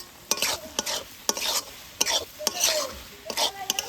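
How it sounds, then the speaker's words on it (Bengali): Fried potato and soybean chunks being stirred vigorously with spices in a pan, a rapid series of close spatula scrapes and clinks over a low sizzle. "মশলার সাথে আলু সোয়াবিনটাকে খুব ভালোভাবে কষিয়ে দিয়ে দিচ্ছি জল"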